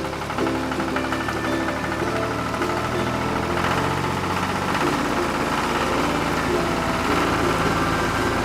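A tractor engine chugs steadily at idle, a dense low rumble with a knocking texture that stays constant throughout.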